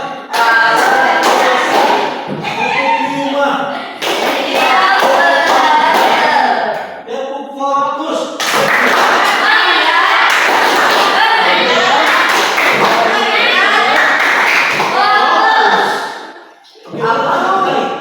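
Primary school children clap hands in a counting clap game, loud rhythmic bursts of claps and thumps broken by short pauses, with voices calling along between rounds.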